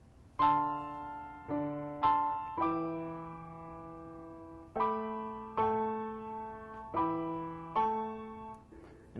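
Piano chords struck one after another, each ringing out and fading before the next, with a few held longer in a slow, steady pattern.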